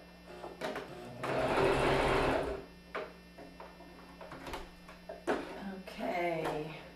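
A sewing machine runs a short whirring burst of zigzag topstitching along sweater bag strap edges, then stops; scattered clicks and brief voices follow, with a steady hum underneath.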